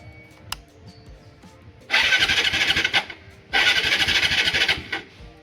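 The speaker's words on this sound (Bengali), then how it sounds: "এই এখন চোখ টেনেছি, এখন স্টার্ট নিয়েছে" A motorcycle on a cold winter morning is started with the choke pulled, giving two loud bursts of revving engine noise, each over a second long, separated by a brief lull, with no talk over it.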